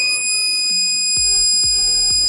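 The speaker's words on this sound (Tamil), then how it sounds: "இப்போ பாருங்கள், நீங்கள் பாருங்கள் இந்த அலாரம் வெளியில் வந்துடுச்சு" A homemade DIY security alarm sounds with a steady high-pitched electronic tone, loud and close, with a few low thumps partway through.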